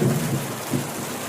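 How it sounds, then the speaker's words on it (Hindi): Heavy, steady rain pours in a broadband wash with low rumbling thunder underneath, a louder roll near the start and another swell midway, continuous and fairly close. "लगातार बहुत तेज बारिश हो रही थी"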